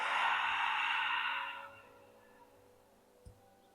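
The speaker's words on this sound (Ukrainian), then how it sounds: "І видих через рот." A slow, audible exhale through the mouth during a diaphragmatic breathing exercise, a soft breathy rush that lasts about a second and a half before fading into quiet, with a faint click near the end.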